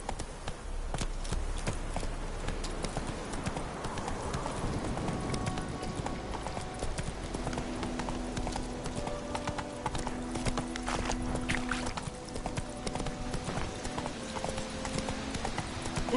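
Horse hooves clip-clop steadily in a PS4 video game, a continuous close walking rhythm with a brief whinny-like call, under steady game ambience.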